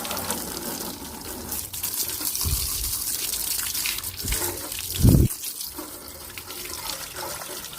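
Steady rushing spray of weak-pressure water from a hose washing a scooter, continuous and close, with a few brief louder gushes and splashes partway through.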